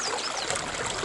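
Fast-moving stream water rushing steadily at a gold prospecting site, a continuous bright broadband wash that stays close and loud without pause.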